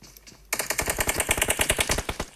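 Bursts of automatic gunshots in a PUBG squad match, a fast rhythmic string of loud, close shots starting abruptly after a quiet half second and running steadily to the end.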